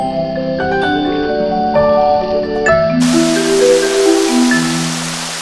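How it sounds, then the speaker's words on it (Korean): Rain falls in the Costa Rican jungle, a steady broadband hiss that starts partway through and continues beneath a melodic music track. "코스타리카 정글에 비가 내린다"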